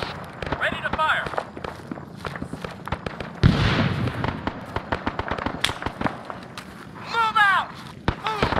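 Game gunfire during a night battle on Phu Quoc. Rapid sharp cracks and scattered shots come with footsteps and movement, and voices talk throughout.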